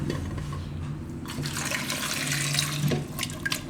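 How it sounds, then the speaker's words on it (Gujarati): Water runs into a pressure cooker holding halved raw bananas in a home kitchen, a steady close splashing and filling sound that lasts a few seconds, with no voices. "આમાં આપણે પાણી નાખીશું"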